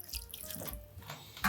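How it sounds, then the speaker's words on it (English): Liquid from homemade bone broth is poured through a wire strainer, giving a continuous splashing, trickling flow with small drips, close and moderately loud. "So I'm just gonna pour this through the strainer."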